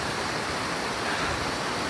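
A river flows downhill beside a backcountry tramping track, a loud and steady rushing wash of water up close with no voices.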